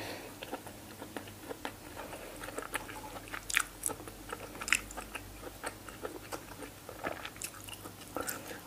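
Close, crisp crunching and biting as crispy pork rind is chewed with a spicy Thai salad of pork sausage and blue crab, a steady run of sharp bites and chews with soft murmuring in the background.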